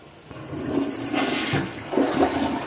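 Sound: toilet flush

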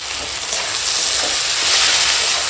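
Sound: sautéing spiced tomato and potato curry in a pan

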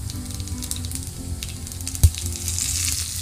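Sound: mustard seeds and curry leaves sizzling in oil

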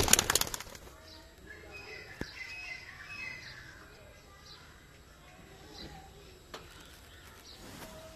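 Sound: pigeon cooing

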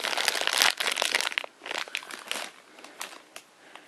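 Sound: opening a mystery mini blind box card packet

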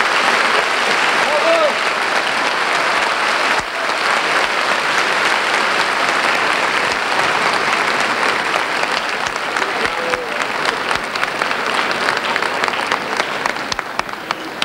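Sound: audience applause at a show

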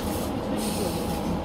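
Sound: slow train running

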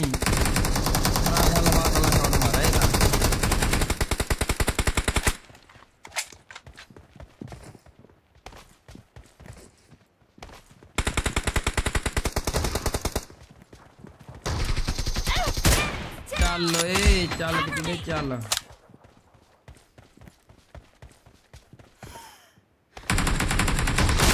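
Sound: gunfire in the video game PUBG

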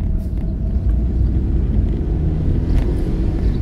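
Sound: car engine running during a test drive

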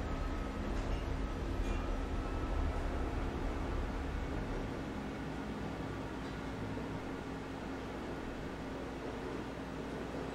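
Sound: train ride in the video game Black Mesa

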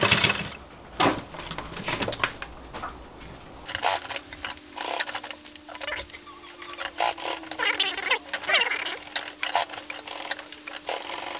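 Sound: heavy-duty sewing machine stitching thick leather for sandals

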